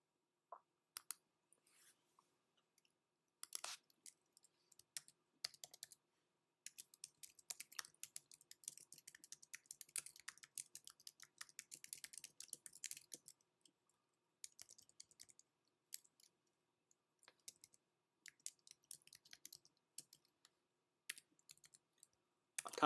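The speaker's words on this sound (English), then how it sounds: "I'm typing it in." Someone types on a computer keyboard in scattered bursts of quick, light clicks with short pauses between runs of keystrokes.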